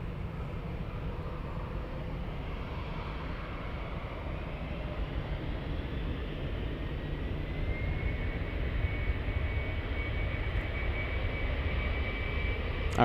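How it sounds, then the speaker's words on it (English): A jet airliner takes off at Munich airport, its engines giving a broad, steady roar heard from a distance that swells slightly louder as the plane climbs, with no voices. "All right, let's go for the next takeoff."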